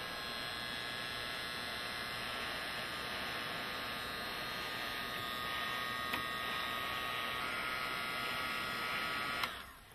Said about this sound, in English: here I can use a heat shrink gun, which is basically a hot air gun